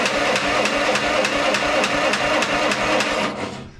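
A choked Bolens Groundskeeper tractor engine turns over while being started, a loud, steady rhythmic chugging of cranking close by that fades out at the end.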